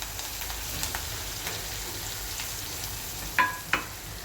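Onions, green chilies, bay leaf and dry red chili frying in a home pan for dahi tikhari, a soft steady sizzle with two brief sharper clinks or scrapes near the end; no talking.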